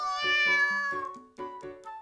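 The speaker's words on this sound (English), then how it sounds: "I hear a little meow from below me." A cat meows clearly several times in a row in the video game You and Me and Her: A Love Story, close and tonal, with drawn-out high-pitched cries.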